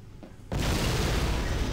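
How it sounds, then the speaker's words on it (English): A sudden loud boom bursts in after a quiet moment, then rolls on as a dense, sustained roar of explosions in a video game, filling the sound alone without talk. "There's explosions going on everywhere"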